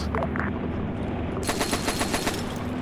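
A tank's machine gun in a military video game fires a burst of rapid shots. The rattle starts partway through, is preceded by quieter background noise, and repeats in a quick, even rhythm up close.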